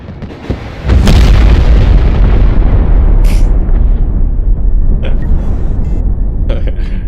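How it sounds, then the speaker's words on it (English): Massive nuclear missile blast in the game Broken Arrow, a loud booming explosion that swells into a long, heavy roar and rumble lasting several seconds, with a few faint sounds over it. "Is that a nuke? I think it's a nuke, guys."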